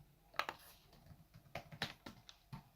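Quick, light clicking keystrokes on a computer keyboard, a few taps in short bursts close to the microphone, quiet overall with no talking.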